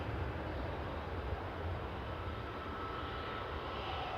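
A SunExpress airliner bound for Antalya at Manchester Airport gives a faint, steady jet-engine roar, a continuous broadband rumble heard from a distance.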